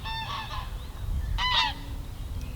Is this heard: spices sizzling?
no